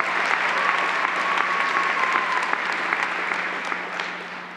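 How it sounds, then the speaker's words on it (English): Loud, dense applause from a commencement ceremony audience, continuous clapping with a steady low hum underneath, gradually easing toward the end. "let's give them a big round of applause for sticking by you through the good and the bad"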